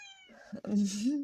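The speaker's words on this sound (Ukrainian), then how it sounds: "Дивіться, який котик." A small stray kitten meows in a high, thin cry near the start, and then someone talks close by over a low background.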